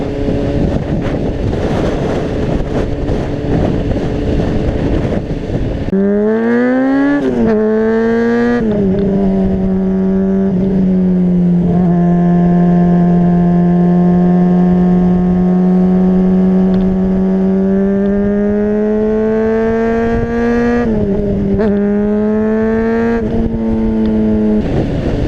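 A Honda CBR600RR motorcycle ridden at speed on a windy day: loud engine drone climbing in pitch through the gears, then holding a steady high whine, with heavy rushing wind buffeting throughout and no speech.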